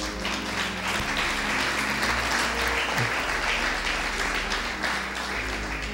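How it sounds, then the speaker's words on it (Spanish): Church congregation applauding during a Spanish-language service, a steady, dense wash of clapping that fills the whole stretch at moderate distance with no voice on top. "Fuerte el aplauso para el Señor"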